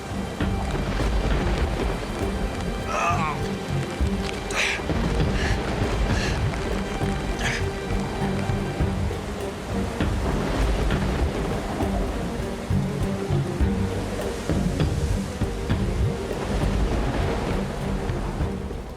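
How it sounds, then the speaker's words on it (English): Heavy rain and surf-like rumbling of a relentless storm in the wilderness, a steady loud wash with low thunder-like roar throughout, and no talk. "But the relentless storm and the slippery ground are taking their toll on Bruce."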